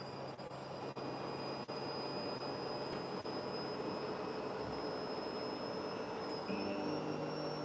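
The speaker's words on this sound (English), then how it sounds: "I like that sound of the Hoover." A Hoover vacuum cleaner running steadily and loudly with a constant whine and broadband roar, a few faint clicks along the way, no talking.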